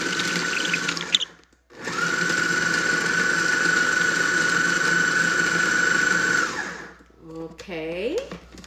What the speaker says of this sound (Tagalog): So we're going to blend it, everything,